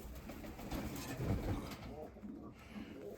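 Nikolaev pigeons cooing inside a dovecote, a soft continuous low murmur of several birds close by, with a person talking over them.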